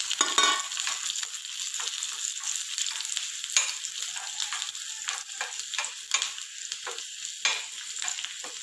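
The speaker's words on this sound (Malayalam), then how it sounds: "ഒരു ചെറിയൊരു കഷ്ണം ഇഞ്ചിയും കൂടെ ഒന്ന് മൂപ്പിച്ചെടുക്കാം" Chopped ginger and green chili sizzle steadily in hot oil in a pan for ven pongal, a bright, continuous crackle close by with brief stirring scrapes and no talk.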